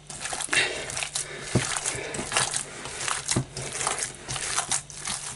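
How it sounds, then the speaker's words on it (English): Hands mix a Danish frikadeller meat mixture with soaked bread in a bowl, giving soft irregular squishing and crackling sounds, close and fairly quiet, with no talking. "And you mix that in well."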